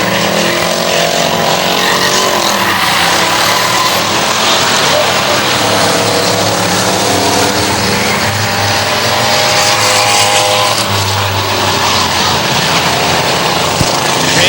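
Race cars lapping Hudson Speedway in New Hampshire: a loud continuous roar of engines that swells and fades as cars pass, under excited commentary throughout.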